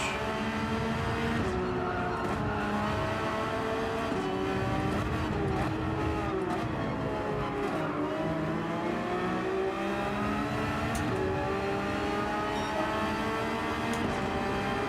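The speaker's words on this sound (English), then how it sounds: "I'll rev some more." A race car engine revs continuously in Gran Turismo 7, its pitch rising and falling through gear changes, loud and sustained with faint tire noise and no talk.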